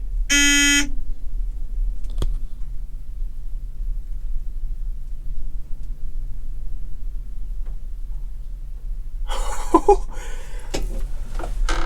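A short electronic beep sounds once at the start over a low steady hum, followed later by a brief burst of clattering noise.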